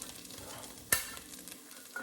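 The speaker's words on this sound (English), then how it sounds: "Now that our paste has been heated through, we're gonna add our tomatoes." Chunky tomatoes hit a heated paste in a pan, giving a quiet continuous sizzle with a sharp splash-like burst midway and soft stirring.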